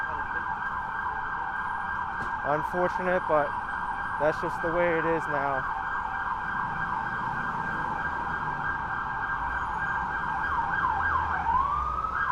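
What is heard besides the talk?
emergency vehicle sirens in Manhattan traffic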